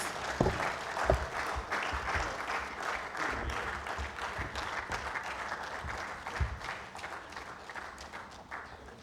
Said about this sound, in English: Let's keep clapping till she takes her seat, please.